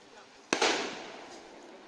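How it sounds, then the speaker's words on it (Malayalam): A single firecracker bursts sharply, set off to drive away wild elephants near a village, followed by a decaying echoing rumble over quiet background. "ഇപ്പോൾ വെടിപൊട്ടിക്കുന്ന ഒച്ചയൊക്കെ കേൾക്കാൻ കഴിയും."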